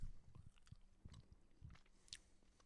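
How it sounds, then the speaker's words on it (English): Close, quiet chewing of jelly beans, with soft wet bites and squishy mastication in an irregular rhythm and no speech. "A lot of chewing noises"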